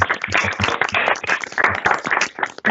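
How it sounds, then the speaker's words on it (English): Scattered clapping from several participants at an online board meeting, coming in unevenly over video-call audio for about three seconds, with a few overlapping voices mixed in. "You're going to give a little round of applause for Eileen"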